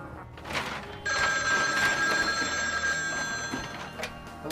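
A telephone rings continuously with a bright, sustained electronic bell tone, loud and close, starting about a second in and holding steady without talk.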